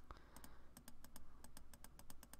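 Rapid, uneven keystrokes on a computer keyboard during a PC strategy game, a steady run of sharp clicks close by with no voices.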